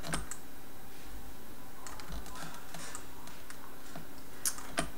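Keys pressed on a computer keyboard in short clicking bursts and scattered single taps, close and fairly quiet, while working on an album template in Photoshop.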